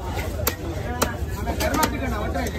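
Sharp, heavy knife chops strike a large snapper at a busy fish-cutting stall in Kasimedu, several loud blows spaced irregularly over steady market chatter and background noise.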